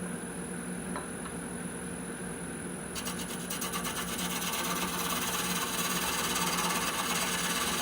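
A woodturning tool cuts a cherry wood bowl on a running lathe, giving a steady, continuous rubbing hiss over a constant motor hum, with a faint high whine and a slight change in texture partway through.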